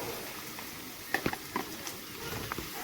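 Onions added to a pan and frying for a crab roast, a soft steady sizzle with a few crackles and pops over quiet background.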